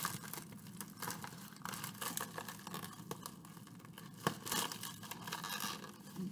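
A bubble mailer package is torn open with close, loud ripping and crinkling of plastic and paper in uneven bursts, with a sharp tug midway.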